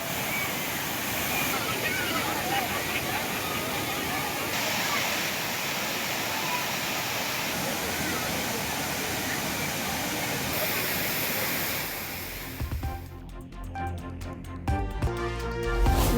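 Thirparappu waterfall, crowded with summer holiday tourists, pours with a steady, loud roar of rushing water that fills most of the clip before giving way to other sounds near the end.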